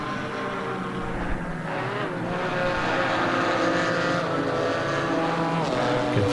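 GT4 race cars, including a BMW M4, racing at Snetterton circuit in Norfolk, England, with a continuous loud engine roar that rises and falls through gear changes, steady and close throughout.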